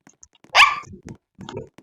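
A dog gives one sharp, fairly close bark, followed by a few softer low grunting or growling sounds in a brief, quiet burst.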